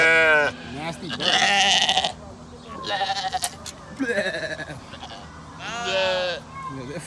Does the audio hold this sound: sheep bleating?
yes